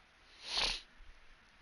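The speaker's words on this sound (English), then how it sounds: "I have got the sniffles" A single short nasal sniff from someone with the sniffles, close and brief, rising and falling within half a second in an otherwise quiet room.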